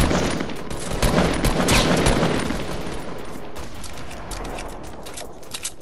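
Rapid video game gunfire in a mountain firefight, a dense stream of sharp cracks and booms that is loudest early and continues steadily, with no talk over it.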